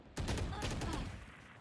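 A Marshal sniper rifle headshot in a Valorant esports match sounds as one sharp, loud report that cuts in abruptly and trails into a dense, roaring decay of layered gunfire and game noise.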